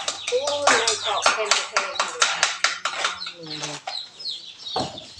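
Chickens cluck in a rapid series of sharp, loud calls close by, with a person's voice talking among them.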